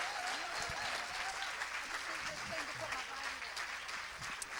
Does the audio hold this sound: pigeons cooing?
no